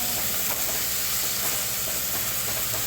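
Three large chopped onions sizzle and fry in a pan with garlic for a soybean dish, a dense, steady, close hiss of frying with faint stirring scrapes, no talk.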